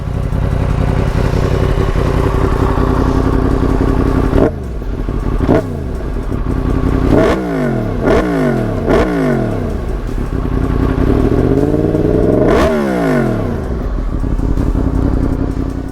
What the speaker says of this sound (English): this is the Remus end can and link pipe with stock headers.